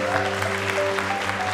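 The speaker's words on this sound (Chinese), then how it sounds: "我们拍手欢迎他" A Presbyterian church congregation claps during a Sunday worship service to welcome a visiting member, with sustained, fairly loud applause over a faint tonal hum and no one speaking.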